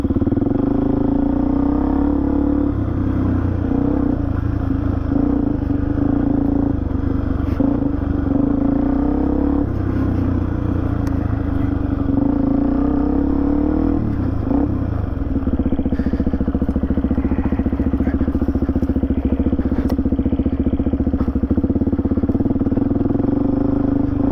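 A Suzuki DRZ400E motorcycle rides a forest track in a pine plantation, its single-cylinder engine thumping steadily up close with repeated revs and throttle changes, plus rattles and wind noise, for the whole stretch.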